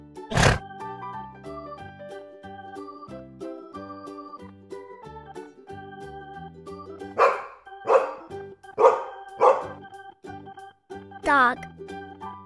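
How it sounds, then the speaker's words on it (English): Several dog barks in a row over a gentle music background, following a short thump at the start. "Dog."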